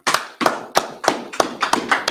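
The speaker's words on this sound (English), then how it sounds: "Clap it up" Several people clap in unison at a Sabbath service class, seven sharp, close claps in a steady rhythm about a third of a second apart, ringing slightly in the room, with no talking.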